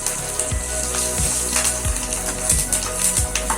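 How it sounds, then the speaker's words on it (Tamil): Coriander powder and curry leaves sautéing in hot oil for a tomato and moong dal soup, a steady close sizzle with repeated stirring scrapes of a spoon against the pan, no talk. "இந்த மல்லித்தூளை எண்ணெயிலே நல்லா வதக்கணும்"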